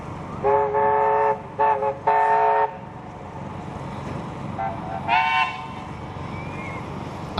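Two locomotives hauling a train into Maitland during the Hunter Valley Steamfest sound several loud, chord-like horn blasts in separate bursts over a low rumble of the moving train, with a fainter horn toot later.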